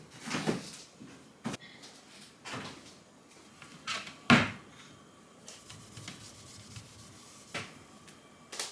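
A kitchen cupboard or fridge door is opened and closed to take out butter at home: scattered soft rubs and clicks, with one sharp knock partway through, all fairly quiet and close.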